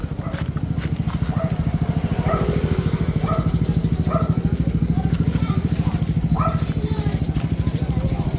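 A motorcycle engine runs close by with a steady, rapid putter at an even pace throughout, while voices talk over it.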